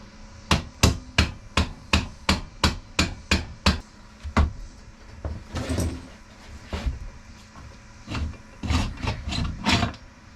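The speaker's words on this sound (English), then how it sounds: "this next part really helps if you have like a mallet, any type of hammer or anything." A mallet hammers on Honda Grom axle parts while axle sliders are fitted: about a dozen sharp, evenly spaced strikes in a quick row, then a looser run of irregular, duller knocks, close and clear.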